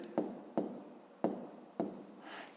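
A pen scratches out a maths exercise in a notebook, heard as four or five short, soft strokes with small gaps between them, close and quiet in an otherwise still room.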